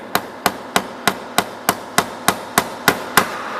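A hammer drives a small nail into wood while building a small shelf or drawer box, eleven sharp evenly spaced strikes about three per second, close and loud with no talk.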